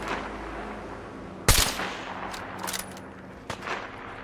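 Gunfire in Fallout 4: a single loud, sharp burst from a Tommy gun stands out against a steady background rumble, followed by a few fainter, scattered shots.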